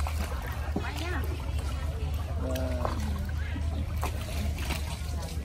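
A Vietnamese three-plank rowboat (xuồng ba lá) moving along the canals near Cồn Thới Sơn, Tiền Giang, with a steady low hum of movement on the water and people talking over it throughout.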